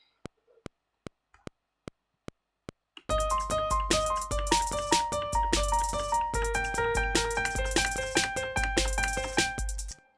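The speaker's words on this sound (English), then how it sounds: "play this on my MIDI keyboard that I have right down here." A MIDI keyboard is played into recording software: a steady count-in of metronome clicks, then a bright synth melody of repeated stepping notes over a driving beat, loud and continuous for several seconds.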